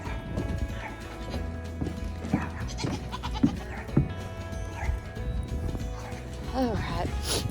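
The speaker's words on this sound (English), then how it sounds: "let's feed the goats" Goats bleat at feeding time in farm pens, with scattered calls and hoof or feed clatter under a person talking nearby.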